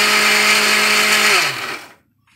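A mixer grinder grinds homemade calcium into powder for birds, running with a loud, steady whirring roar for about a second and a half before the motor winds down and stops.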